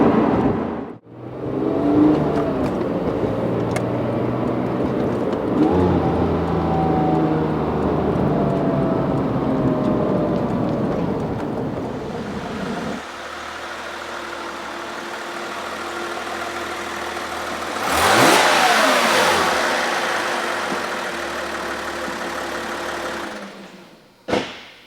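A Porsche 911 GT3 engine revs hard and climbs through the gears, drops back, then surges again with a loud, rising whine before cutting off abruptly at the end.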